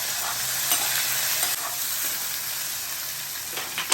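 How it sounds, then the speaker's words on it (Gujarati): Potatoes with salt and turmeric being stirred in a pan for potato poha: a steady close sizzle with a few scraping strokes of the spoon, louder near the end, no voices. "ફરી એને હલાવો."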